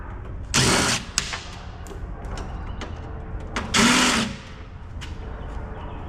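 A power screwdriver or drill backs out Torx screws from a metal scuttlebutt heat exchanger being scrapped, giving two short whirring bursts over faint clicks and workshop background noise.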